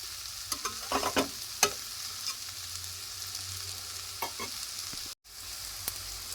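Green chilies sauté in a pan for Maharashtrian methi bhaji, a quiet low sizzle with a few scraping stirs and spoon clicks clustered early, then a softer steady fry.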